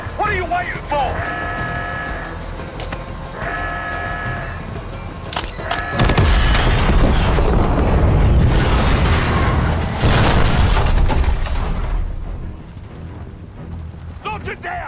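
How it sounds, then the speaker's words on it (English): In the Call of Duty: Black Ops 6 campaign, a charge placed on a Scud missile detonates into a loud, sustained roaring blast after a stretch of mechanical clanking and a rhythmic tone. The blast dies away into quieter rumble. "Case, get a charge on that Scud now."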